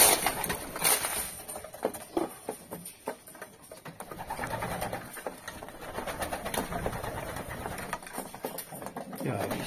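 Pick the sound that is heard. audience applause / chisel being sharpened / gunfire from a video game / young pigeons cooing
young pigeons cooing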